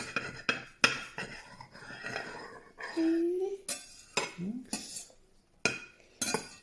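Cutlery cutting into a banana pie in a frying pan, a string of sharp metallic clinks and scrapes against the pan at irregular intervals, close by, with brief voices and a short hum between them.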